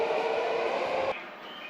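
A commuter train stands at platform 1 of Yoyogi Station in Tokyo, its steady broadband rumble and hiss filling the scene until the doors close and the noise drops to a quieter hum near the end.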